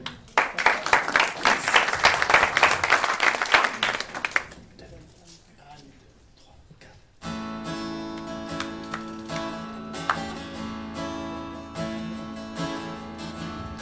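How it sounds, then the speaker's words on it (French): Concert audience at an annual concert applauds loudly with dense clapping for about four seconds, then it fades to quiet before music with instruments starts and continues. "Allez, on les applaudit."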